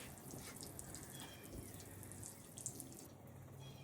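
Water pours steadily from a tap or hose onto carpet to soak it for cleaning, a continuous hissing splash at moderate distance with no voices.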